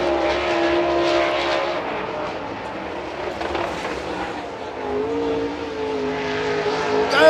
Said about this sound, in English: And Corey Hedgecock, a lot of smoke coming out of the back of that race car